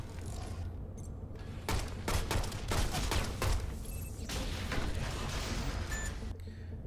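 Turret gunfire in the Shadow Complex video game comes as a rapid series of sharp shots in bursts, close and fairly loud, with mechanical clatter between them.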